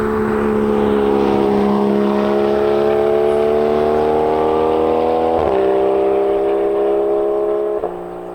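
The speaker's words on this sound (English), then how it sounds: "It's actually a little difficult to describe how incredible it is to listen to this car under load and at speed." A Porsche 981 Cayman fitted with a Soul performance exhaust howls loudly at speed on a mountain road, engine note climbing steadily through the revs with brief dips at two upshifts.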